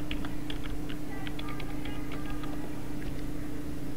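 Someone types on a computer keyboard with quick, soft, irregular keystrokes. Steady low background hum sits underneath, and no one speaks.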